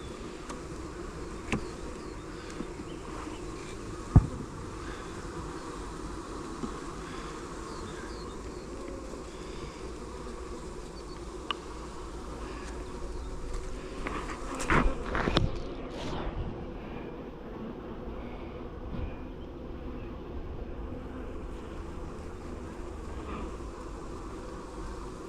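Honey bees swarm around an open nucleus colony during its move into a new hive, a steady low insect buzz running throughout with a brief louder surge of wingbeats near the middle and a few small knocks.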